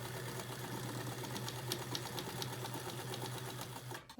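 A sewing machine chain pieces denim quilt squares with a steady, continuous mechanical hum and a fast stitching rhythm, close and alone throughout.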